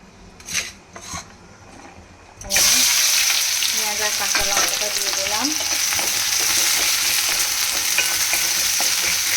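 A little oil going into a hot pan for a Bengali cabbage curry, a few soft knocks and then a sudden loud, steady sizzle of frying that holds close and even to the end.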